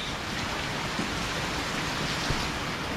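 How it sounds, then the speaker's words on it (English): Monsoon rain falls steadily on a yard in Phala, Ban Chang, Rayong, Thailand, a dense, even hiss of close downpour with scattered drips and taps off the roof, loud and constant, with no talking. "So yeah, monsoon rain."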